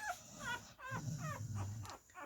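One-week-old puppies whimper and yip in a string of short, high, wavering cries close to the mic, with a low rumble of handling noise underneath.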